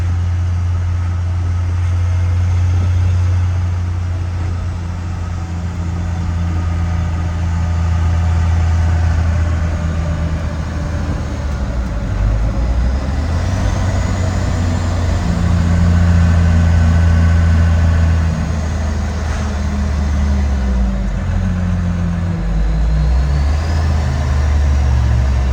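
An old truck with a collapsed suspension drives along a road at traffic speed, its steady low engine drone joined by loud, continuous tire roar that swells and eases slightly throughout, heard close from inside the cab.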